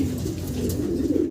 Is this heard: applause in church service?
no